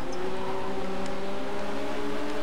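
Race car overtaking another in the racing game Race 07, a TRD Toyota AE86 in a WTCC field, its engine a steady loud buzzing drone with a slightly shifting pitch as the cars run side by side.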